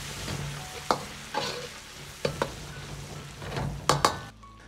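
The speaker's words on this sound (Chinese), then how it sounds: "接着从锅边烹入适量的料酒，" Cooking wine splashes down the side of a hot wok during an oyster mushroom stir-fry, setting off a steady close sizzle broken by several sharp spatula scrapes and clanks against the pan.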